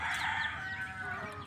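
Rooster crowing among chickens at a backyard poultry raising, a sustained, fairly loud crow with harmonic tone and faint clucking beneath, no talk.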